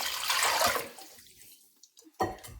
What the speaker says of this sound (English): I'm going to add 2 more cups of cold water.